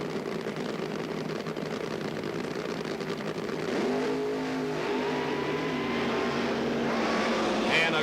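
Fuel funny car drag racing at the starting line, staging a 1977 Monza: a loud engine roar that surges and rises in pitch as the cars launch, with a commentator talking over it.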